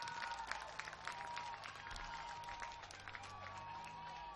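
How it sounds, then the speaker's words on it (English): A crowd at a youth baseball game claps for the Sneads team, a continuous wash of fairly distant, moderate applause with light cheering mixed in. "Let's all give Sneads a round of applause"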